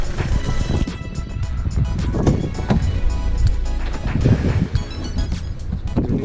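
Gusty wind blows around a parked BMW E90, a steady low rumble with buffeting against the microphone throughout.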